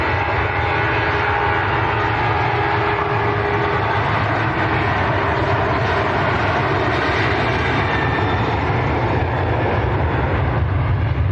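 Ryanair airliner departing Manchester Airport, a steady broadband jet roar that holds loud and continuous throughout with no talking.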